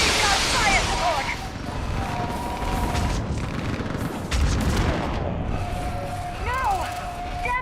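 Gunfire in a battle in Mass Effect 3, with dense, sustained shooting and booms mixed with shouted voices and loud combat noise throughout.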